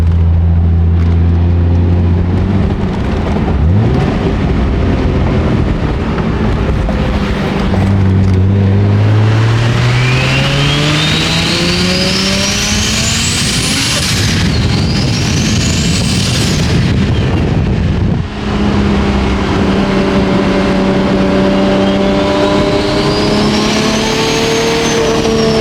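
A 1999 Nissan Skyline R34 GTR V-spec on city streets, its engine revving loud and close, pitch climbing through each gear before dropping at the shifts, with a sharp lift-off near the end.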